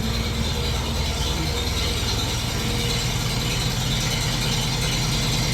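An engine idles with a steady, dense mechanical clatter and rattle at close range, unchanging throughout, with no voices.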